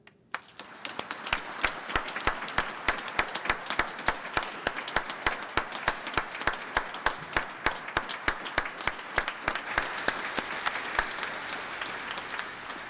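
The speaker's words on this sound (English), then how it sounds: "Please join us in a round of applause for the newest members of the Vancouver Police Department." A large audience applauds steadily at a Vancouver Police Department recruit swearing-in ceremony, a long, even wash of clapping with a few sharper, nearer claps standing out throughout.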